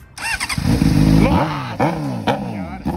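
Honda Hornet motorcycle starting with a balloon fitted over its exhaust: the engine catches and revs loudly with squealing, rising and falling tones, then settles into a rough idle, close by.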